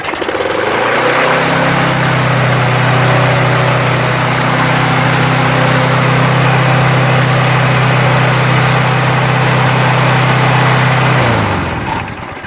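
A push lawn mower with a bagger runs steadily at high RPM, its small engine droning loud and close with a constant buzzing hum for the whole stretch, easing off slightly at the end, with no talking.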